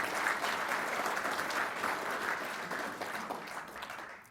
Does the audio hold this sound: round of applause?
yes